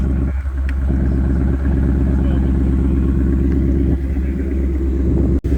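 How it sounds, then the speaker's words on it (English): A car's exhaust rumbles steadily with a deep, throaty drone that holds at a constant level, with faint voices in the background. "It's all about that exhaust note."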